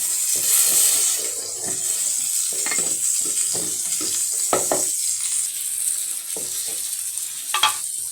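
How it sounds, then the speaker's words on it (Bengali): Fish frying in a pan, a loud continuous hiss of hot oil with scattered crackles and stirring scrapes up close. "আমার মাছ ফ্রাই হয়ে গেছে।"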